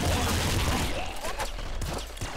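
The super black cannon firing in the video game Nuclear Throne comes as a dense, crackling fusillade of blasts that fades over a couple of seconds, with a few sharp bursts toward the end, no voices.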